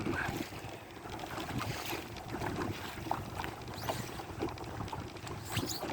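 Steady strong wind buffeting a microphone on a sailboat during a race, a continuous broad rushing roar with gusty swells and splashing water, no talk.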